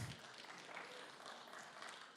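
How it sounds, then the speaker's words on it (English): Audience clapping for an attendee at a business growth presentation, a steady wash of many hands heard faintly and from a distance, continuous for a couple of seconds with no talking over it. "everyone give him a clap"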